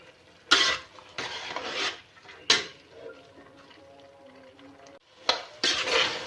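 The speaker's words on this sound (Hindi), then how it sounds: "अब इन तमाम चीज़ों को मैं अच्छा सा भून लूँगी।" Minced meat and chopped onions are fried and stirred in a pan, with a spatula scraping and clattering against the metal in several loud bursts over a soft background sizzle.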